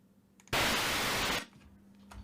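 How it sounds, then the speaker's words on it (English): A generated explosion sound effect that is really plain white noise: one loud, flat burst of static lasting about a second, starting and cutting off abruptly against a quiet background. "I've got a generated sound effect here called Explosion 2"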